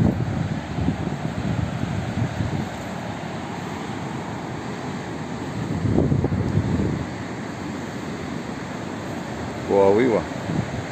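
Steady, heavy wind on a stormy afternoon at a coastal cliff nature reserve in the Sharon region roars across the microphone with gusty buffeting, swelling around the middle and again near the end, with no clear voices.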